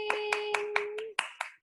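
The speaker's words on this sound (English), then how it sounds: "So let's clap for everybody." A group applauding at a children's Janmashtami school activity: about eight crisp, evenly spaced claps close by, over a steady tonal hum.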